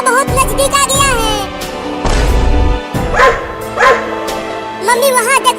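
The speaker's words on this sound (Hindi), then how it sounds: "कुत्ता बहुत नजदीक आ गया है।" Dog barking while giving chase, several close, loud yapping barks in quick bursts mixed with animated voices and other sound effects.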